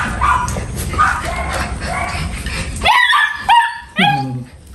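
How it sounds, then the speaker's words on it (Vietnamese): A dog barks and yelps in varied, drawn-out tones that sound almost like talking, loud and close. Several rising yips come in quick succession over a noisy background where people talk. "còn Pepsi nó sủa nó la như nói chuyện"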